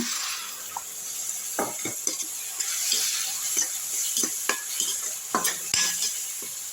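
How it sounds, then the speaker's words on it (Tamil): Oil sizzles steadily in a pan while carrot is stirred and sautéed for carrot thokku, with scattered scrapes and clinks of a utensil against the metal. "நல்லா எண்ணெய் பிரிஞ்சு வர அளவுக்கு நல்லா வதக்கி விட்டுருங்க"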